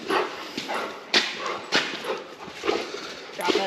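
Several dogs at play give short yips, woofs and whimpers in quick irregular bursts, close by, while people talk over them.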